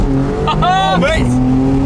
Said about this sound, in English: That is a gear shift. That pop is loud.